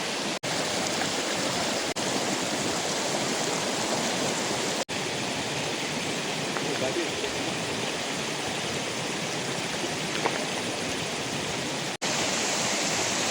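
A drying river channel with water rushing steadily along a stream bed, producing a continuous broadband wash that stays loud and close throughout, with brief dropouts in the signal.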